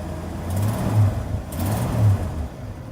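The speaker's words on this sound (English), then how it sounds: "warm enough that we can give it a little bit of a rev" A 1982 Ford F-150 with the 4.9L inline-six and stock exhaust, still warming up, idles loud and close, then gets two brief revs that swell and drop back to a rumbling idle.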